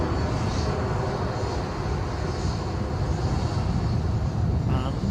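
An airplane landing at Edinburgh airport, a loud continuous jet engine roar heard close up with wind buffeting the microphone, holding steady throughout with no break.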